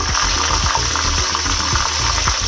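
Fish sizzles steadily as it fries in a pan, with a dense, constant hiss of hot oil and scattered small knocks and scrapes as the pieces are moved.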